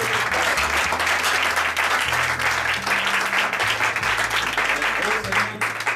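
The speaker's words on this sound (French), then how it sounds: "Put your hands together for the Lord" Congregation clapping steadily at a church worship service, a dense continuous wash of applause filling the room, with a low musical tone and voices mixed underneath.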